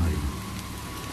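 Stormy-night rain for a radio drama, a dense, steady wash of falling drops with a heavier low rumble at the start, heard alone without any voices.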